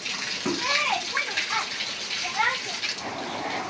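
Water gushing steadily from a motor-driven pump, a continuous splashing rush under excited children's voices and an adult talking.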